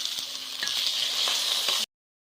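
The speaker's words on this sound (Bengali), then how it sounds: "এবার ঘিতে প্রথমে আমি চালটা ভেজে নিচ্ছি।" Gobindobhog rice fries in ghee in a wok, a bright continuous sizzle close up with a few soft stirring knocks, cutting off abruptly before the end.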